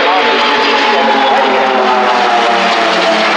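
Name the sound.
F-18 Hornet jet fighter fly past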